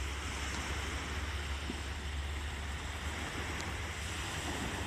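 Pacific Ocean surf on the Washington State coast, a steady, continuous wash of waves heard from a distance, with wind noise brushing the microphone throughout and no voices.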